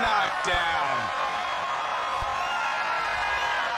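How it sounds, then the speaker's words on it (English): A video game boxing crowd in Fight Night Round 2 roars after a brutal power-punch knockdown, a dense, steady wall of cheering and shouting that holds loud throughout, with a couple of sharp hits near the start. "Listen to the crowd's reaction for that first"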